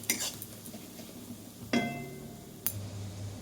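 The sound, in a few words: spice masala frying and being stirred in oil for chicken liver kosha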